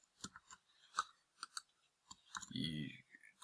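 Computer mouse clicks at a desk, a handful of soft, crisp clicks spaced unevenly, close and quiet, with a brief murmur of a voice in between.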